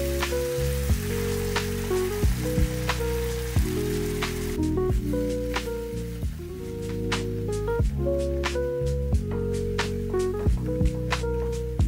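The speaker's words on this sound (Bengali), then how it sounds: "কিছুক্ষণ ভেজে দিয়ে দেব বেশ অনেকটা পরিমাণ ফ্রেশ ক্রিম।" Chicken fries in a pan for creamy Alfredo pasta, a dense, constant crackling sizzle with scattered pops and occasional stirring scrapes, with no voices.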